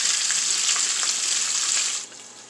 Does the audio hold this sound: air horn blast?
no